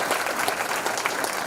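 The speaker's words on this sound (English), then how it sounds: "if we can we give these young folks a round of applause?" Dense, steady applause from a room full of people fills an interfaith iftar dinner, honoring young participants in a warm, continuous wash of clapping.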